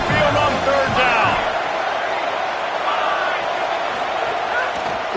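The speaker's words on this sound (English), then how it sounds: "The Tide crowd rolling noise down onto Saban Field on 3rd down." Alabama Crimson Tide home crowd at Saban Field roars steadily on third down during a college football game, a dense sustained wall of noise with a loud swell at the start.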